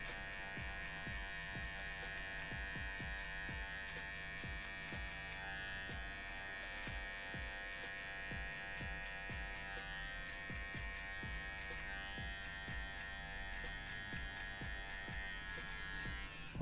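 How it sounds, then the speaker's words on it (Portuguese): Electric hair clippers buzzing steadily at close range while trimming hair during a barbershop haircut, a constant high whine with brief clicks and soft strokes, quiet overall and with no talk. "passa a maquininha com a mão um pouco mais leve"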